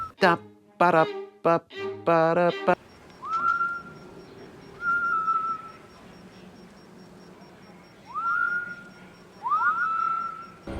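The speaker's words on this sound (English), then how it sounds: "he is whistling the music you used to hear before you enter the Rebirth shuttle" A character in a video game whistles a variation of the main theme, shuttle-boarding music, as several short rising tonal phrases separated by pauses, clear and close, following a burst of other harmonic game sound at the start.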